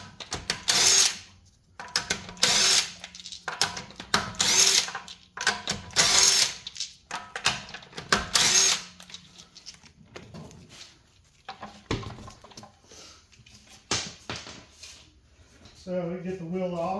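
A power tool rattles in repeated short bursts while removing the wheel bolts on a 2018-2024 Audi RS5 Sportback, close and loud, with quieter clicks and gaps between bursts.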